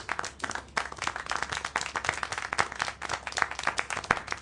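Applause in the Syberia: The World Before video game, a brisk run of hand clapping from a small group at close range, steady and uneven in rhythm throughout.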